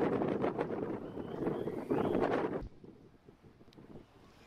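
A fishing boat pushes forward through rough, windy sea where two bodies of water meet, with strong wind buffeting and broadband rushing water and engine noise, loud for the first two and a half seconds before dropping to a quieter rumble.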